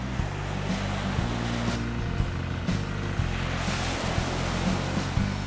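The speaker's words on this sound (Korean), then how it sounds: "저를 깨운 것은 파도 소리였습니다." Ocean surf on the coast of central Vietnam, a continuous broadband wash of waves rolling in with periodic swells, joined by a low steady engine-like hum underneath.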